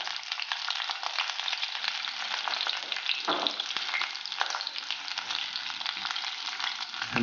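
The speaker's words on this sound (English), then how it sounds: "I'm just going to saute that for a couple minutes." Onions, ginger and garlic sauté in hot oil in a pot, giving a steady, close, loud sizzle and crackle for the whole stretch, with a brief stirring scrape partway through and no talking.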